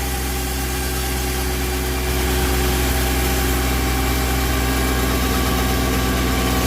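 A tractor engine runs under load on a dynamometer, a loud, steady drone with a strong low hum that holds constant throughout. No voices are heard.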